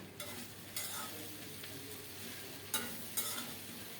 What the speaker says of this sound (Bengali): নেড়ে চেড়ে ভালো করে সব কিছু মিশিয়ে দেবো আর একটু ভাজা করে নেব শিমগুলো ভাঙবো না